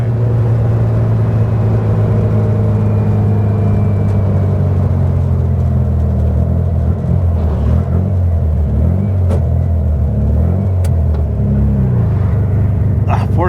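A 1967 Volkswagen Beetle on a cold-weather test drive, its engine a steady loud low rumble from inside the car, rising and falling slightly with throttle and gear changes.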